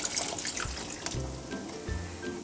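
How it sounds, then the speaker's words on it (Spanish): Water is poured into a blender jar of tomatoes for a milanesa with jitomate and green chile sauce. It makes a close, gurgling splash that runs briefly and then trickles, with a clatter at the end. "Vamos a ponerle el agua."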